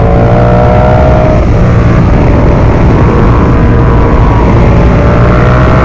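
A Ducati Multistrada V4 Pikes Peak on carbon wheels, ridden through Arizona between Sedona and Jerome, drones loudly and steadily at speed. The engine tone holds constant under heavy rushing wind noise, with no pauses.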